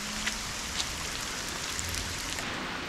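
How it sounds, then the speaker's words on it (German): Heavy rain falls in a constant, even roar of drops with no voices, steady throughout. "Das ist so der Hammer, wie das hier regnet."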